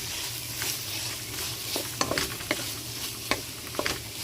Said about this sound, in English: we're going to give this a good stir to incorporate the ketchup in every piece